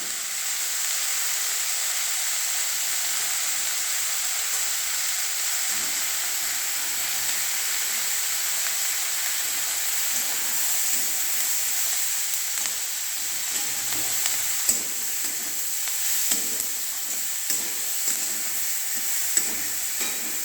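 Paneer chilli sizzling steadily in hot oil as salt and turmeric are added, a bright continuous frying hiss with occasional small taps and stirs, close and fairly loud.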